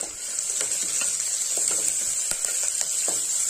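Chopped onions with green chillies sauté in hot oil in a pan, a steady close sizzle and crackle with a few light stirring clicks, no voices.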